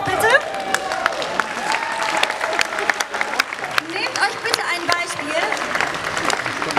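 Concert audience applauds and cheers, a lively crowd of clapping hands with scattered whoops and voices, sustained and fairly loud throughout.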